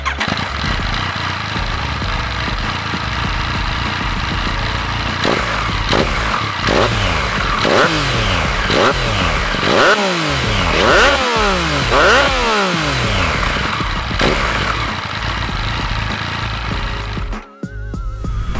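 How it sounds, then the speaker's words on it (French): A Yamaha MT-09 three-cylinder motorcycle engine runs loud and steady while stationary, idling then revved in repeated sharp blips with rising and falling pitch, before a brief dip near the end. "Et ce son très typique des 3 cylindres."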